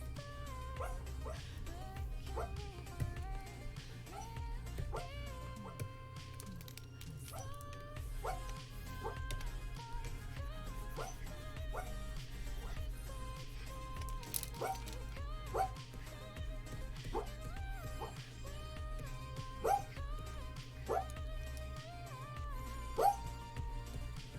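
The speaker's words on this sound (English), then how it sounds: "Dog's dreaming." A sleeping dog dreams and lets out soft, repeated whimpers and high yips in an irregular series over about twenty seconds, close and fairly quiet against a low background hum.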